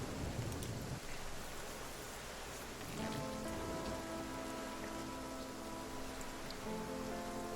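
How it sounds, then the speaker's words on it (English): Rain in the video game The Flame in the Flood, a steady, fairly quiet patter of falling rain with a soft hiss, and a faint tonal hum entering partway through. "because it's going to be raining so much, we will not have to worry about water."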